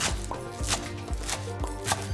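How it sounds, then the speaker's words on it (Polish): A knife chops spinach leaves on a cutting board in a steady rhythm of repeated strokes, close up, with no voices. "Następnie zabieram się za krojenie szpinaku"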